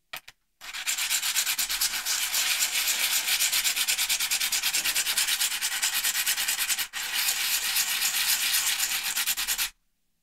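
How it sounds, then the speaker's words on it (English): An Intel i7 CPU's metal surface is lapped on sandpaper, a loud, close, steady rasping scrub that runs nearly continuously with one brief pause before stopping. "Lapping is done to improve your temperatures"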